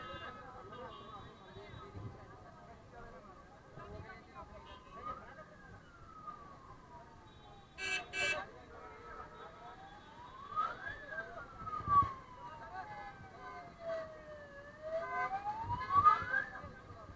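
An ambulance siren wails in long rising and falling sweeps, fairly distant, with traffic rumble and a few voices nearby.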